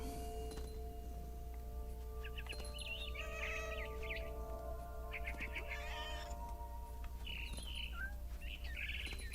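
Bird chirps from the video game What Remains of Edith Finch on Xbox One come in several short, bright bursts of rapid tweeting over a low, constant ambient hum.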